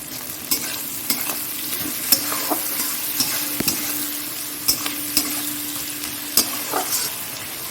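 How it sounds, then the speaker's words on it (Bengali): Fried prawns sizzle in a pan with salt as a spoon stirs them, a constant close crackle broken by regular sharp scrapes and taps against the metal. "এই দেখো চিংড়ি মাছটা ভেজে নিয়েছি ভাজা হয়ে গেছে আর এটার মধ্যে আমি একটু নুন দিয়ে দেবো"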